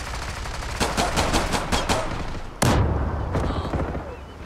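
Gunfire in the Zula online shooter, a rapid automatic burst followed by a single louder, closer shot and a few trailing reports.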